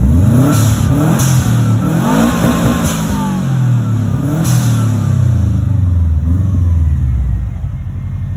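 A rear-wheel-drive Subaru WRX engine revs loudly and close by, rising and falling through several surges over about eight seconds, with a steady throaty drone underneath.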